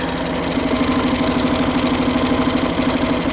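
A sewing machine stitching a tablecloth into a long baby wrap, running steadily up close with a fast, even mechanical whir and rapid needle thumps, no talk.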